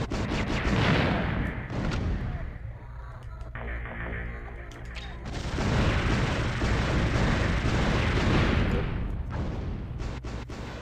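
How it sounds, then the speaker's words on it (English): Cannon shots in the side-scrolling shooter Einhander striking the player's ship over an aquatic base, dense booming blasts with a droning hum beneath, a short lull in the middle, then heavy impacts again. "I forgot I'm not supposed to catch cannon shots with my face"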